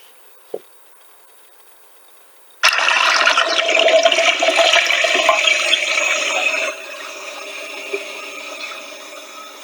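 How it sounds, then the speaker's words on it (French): A household toilet flushes with a sudden loud rush of water, then drops to a quieter refill hiss and trickle as the tank fills; a small click comes before it and no one talks. "Ah, c'était la chasse d'eau."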